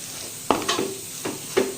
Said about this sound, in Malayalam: എല്ലാവിടെ ഒന്ന് ഇളക്കി കൊടുക്കാം